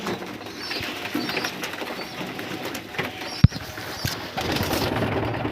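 Pigeons feeding together at night in a loft, with soft, low cooing and rustling throughout, plus a sharp knock partway through; no talking.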